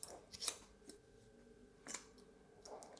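Scissors snipping through hair during a haircut, three crisp separated cuts spaced about a second and a half apart, close and fairly quiet with no voices.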